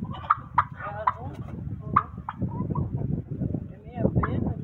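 A drake duck calls several times nearby in short, sharp bursts, mixed with people talking close by.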